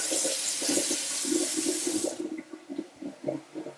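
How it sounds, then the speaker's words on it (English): Lemons are rinsed under a running kitchen tap. A steady hiss of water runs for about two seconds, then stops, leaving soft clunks and handling sounds. "So I'm just going to give my lemons a little rinse here while that's cooking down."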